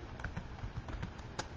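Keys clatter on a computer keyboard in a short, irregular burst of taps with faint room sound and no talking.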